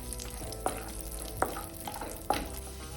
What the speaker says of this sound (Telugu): నెయ్యి కాగిన తర్వాత మీకు ఇష్టమైన డ్రై ఫ్రూట్స్ వేసుకొని వేయించుకోవాలి